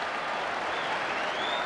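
Queens Park Rangers fans roar at Loftus Road as they rush onto the pitch after the final whistle of the 1975-76 season; the crowd noise is a steady, unbroken mass of cheering and clapping lasting under two seconds.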